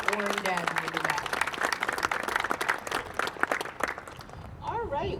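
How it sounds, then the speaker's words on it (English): Applause at a ribbon-cutting ceremony for the Department of Public Works rises as a dense crowd clatter, with a voice talking over it at the start and near the end. "So we want to give them a round of applause"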